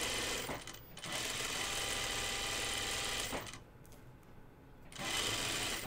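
A sewing machine runs a basting stitch in steady bursts, stopping briefly twice, close and fairly quiet, with no talking.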